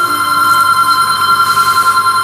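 A telephone rings steadily and loudly, its repeating bell pulsing alone throughout with no talk.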